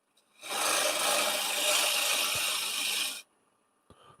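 A tool cutting into the face grain of a wooden bowl spinning on a wood lathe, one continuous scraping cut of about three seconds that stops abruptly, then a couple of faint knocks. Nobody speaks.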